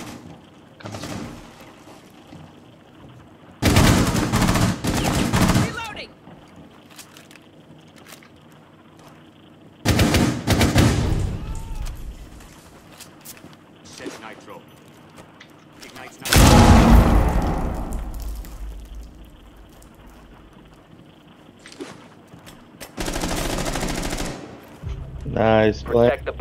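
Gunfire in Rainbow Six Siege, Fortress map, team deathmatch secure-area mode: several loud bursts of rapid automatic fire spaced through the stretch, with quieter game ambience between them.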